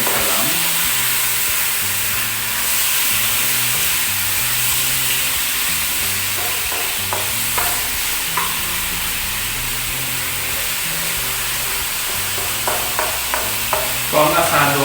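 Salted chicken pieces for asado sauté in a pan with a steady, loud sizzle, while scraping stirring strokes come through, growing busier near the end.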